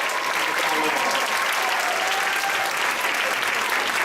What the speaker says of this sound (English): Let's give these wonderful ladies a round of applause.